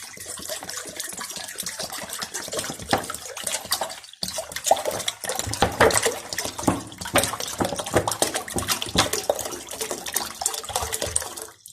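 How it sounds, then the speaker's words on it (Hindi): Water poured into a wok for boiling spaghetti, a steady splashing, gushing stream heard up close for several seconds, with a brief pause and irregular surges. "स्पैगेटी उबालने के लिए हम पानी डालने लगे कढ़ाई में।"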